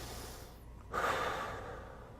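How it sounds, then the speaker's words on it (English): One steady breath is drawn in through the nose during a held abdominal exercise, a soft hiss that swells then slowly fades, close and alone over a faint room hum. "Nice slow rhythmic breathing through the nose."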